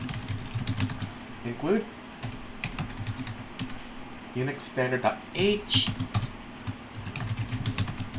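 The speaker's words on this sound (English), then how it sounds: "let's begin with typing out some code" Steady typing of code on a computer keyboard, clattering in quick irregular bursts under a voice as he talks the whole time.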